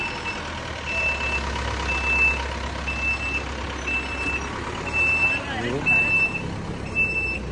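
A 1954 Dodge Power truck rolls past in a classic car parade with a steady low engine rumble, while a repeating high beep pulses over crowd noise and a brief spoken word.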